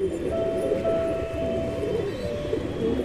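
A large male domestic flying pigeon coos in low, soft repeated notes close by, over a steady background rumble.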